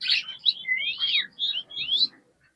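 A pet bird kept indoors, which mimics crows and mynas, gives a run of clear, bright whistled chirps and swooping calls in quick bursts, close and fairly loud, ending in silence.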